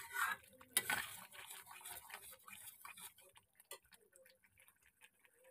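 Masala roasts with cream in a pan under brisk stirring, with quick rhythmic scrapes and metallic taps of the spoon against the pan, loudest at first and then thinning to sparse clicks.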